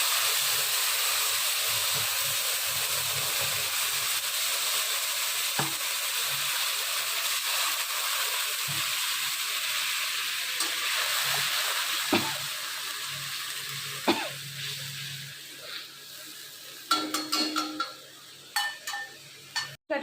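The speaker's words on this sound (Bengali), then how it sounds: "এই মশলাটা আমি এখানে দিয়ে দিই" Ground paste of tomato, ginger, green chilli, whole cumin and coriander frying in a pan, a steady hissing sizzle that slowly fades, with occasional clinks and clatter of utensils toward the end.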